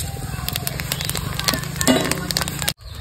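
Whole spices and cumin seeds crackle and sizzle in hot mustard oil alongside dried red chillies, bay leaves, cloves, cardamom and cinnamon, a close, busy frying hiss with sharp pops that cuts off abruptly near the end.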